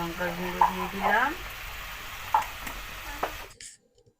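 Chili powder and spice paste fry in hot oil for a Bengali catla fish kalia, a soft continuous sizzle broken by a few scraping stirs of the spoon, close and fairly quiet, ending abruptly.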